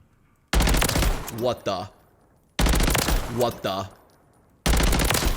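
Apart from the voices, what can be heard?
BP-50 rifle gunfire in video game Warzone 3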